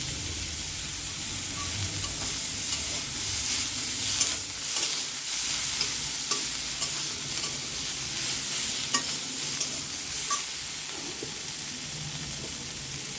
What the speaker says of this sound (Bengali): ফুলকপি আর আলুটা ভেজে নিয়েছি এবার এর মধ্যে একটুখানি আদা আমি এতে থেঁতো করে নিয়েছি এই আদাটা দিয়ে দেবো